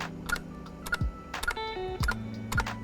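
Keys clack on a computer keyboard in Mario typing software, a few separated strokes heard clearly over bright electronic game beeps and tones.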